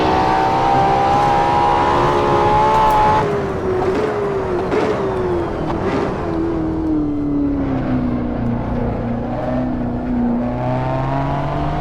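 A Ferrari LaFerrari engine in a racing video game holds a loud, steady high-pitched roar, dropping in pitch as the car slows for a corner and then droning on through the turn.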